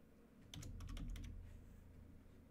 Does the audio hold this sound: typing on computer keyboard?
yes